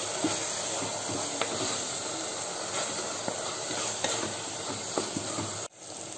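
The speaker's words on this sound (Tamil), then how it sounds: "நம்ம எல்லா மசாலாவையும் இந்த தக்காளியோட நல்லா வதக்கிக்கலாம்." Spice masala with tomato sautéing in a cooker for mushroom biryani, a loud continuous sizzle with spoon strokes scraping through it, ending abruptly, no talk.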